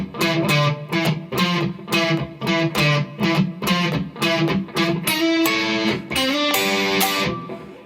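Distorted electric guitar plays the middle 8 of a song: a rhythmic string of short, punchy repeated notes with regular pulses, turning to brighter, sustained notes in the final seconds, loud and close, no talking.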